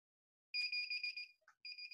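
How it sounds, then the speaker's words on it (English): A smart door lock emits a run of loud, close, high-pitched electronic beeps while pairing with a remote, sounding in quick pulses with a short gap and a couple of lower blips before the beeping resumes. "The lock will start beeping and flashing."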